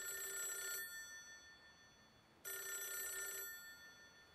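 A telephone rings twice, each bell-like trill lasting about a second with a pause between, clear and isolated in a quiet room.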